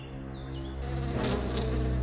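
Bees buzz steadily in an animated children's story as they swarm and sting a lazy girl, a dense insect drone that swells and stays loud throughout with a musical tone beneath.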